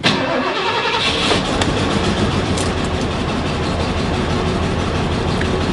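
A 30-year-old Ford F150 engine runs with a misfire, making a loud, continuous rough rumble with an uneven, chugging texture heard up close.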